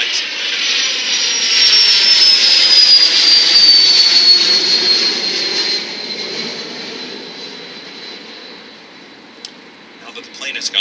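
A loud airplane passes overhead during an outdoor news conference, its jet roar swelling, sweeping downward in pitch and then gradually fading away.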